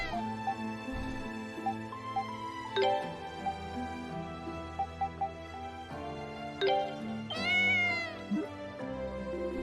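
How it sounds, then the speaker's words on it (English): A large cat meows in Ys: Memories of Celceta, a few distinct calls over steady game music, with one drawn-out rising cry near the end. "That is a big cat."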